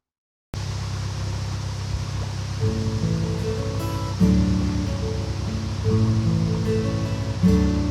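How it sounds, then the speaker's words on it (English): Steady wind rushes through trees along a canal. The broad, continuous gusting is loud and close, layered over the low, even drone of a narrowboat engine. "Just look at the wind blowing through the trees."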